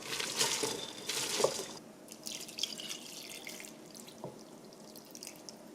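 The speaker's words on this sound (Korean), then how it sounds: "밥솥에 이렇게 부어주세요." Salted water is poured into the pot of an electric rice cooker, making splashy trickling bursts at first that thin to light drips and small splashes, quiet and close, with no speech.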